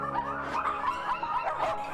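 Puppy mill dogs whimper, whine and yip close by in a continuous overlapping stream of high, plaintive cries with occasional short barks.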